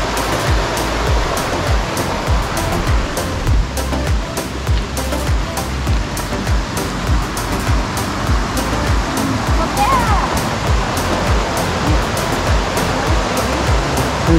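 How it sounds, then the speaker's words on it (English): Loud, continuous roar of rushing creek rapids on the Fiery Gizzard loop trail fills the scene, churning and close, with a voice speaking briefly over the water. "Look at that rapids there"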